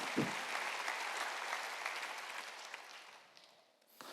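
Church congregation clapping hands together during a worship service, a dense steady wash of applause that continues for about four seconds, close and even, tapering slightly near the end before a brief renewed burst.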